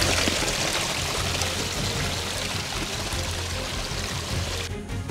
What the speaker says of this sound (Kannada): ದಾರಿಲಿ ಹೋಗ್ತಾ ಏಕನೂ ಫಾಸ್ಟ್ ಸಣ್ಣ ಸಣ್ಣ ನೀರು ಹರಿತಲೇ ಇರುತ್ತೆ